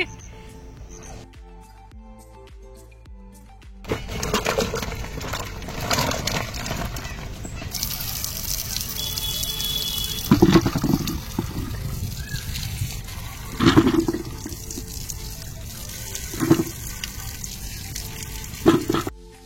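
Water is poured out in intermittent splashing gushes with trickling between them, close and fairly loud, after a quieter opening with faint voices in the background.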